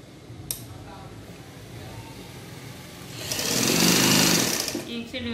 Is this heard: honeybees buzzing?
no